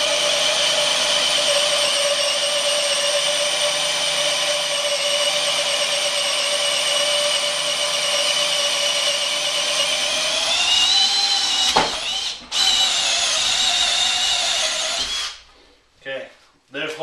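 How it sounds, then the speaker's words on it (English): An 18V brushless hammer drill, Milwaukee or Makita, boring a hole at high speed and high torque: a loud steady high-pitched whine that holds for about eleven seconds, wavers and stutters, then spins down and stops. "I'm just going to keep drilling away and see what happens"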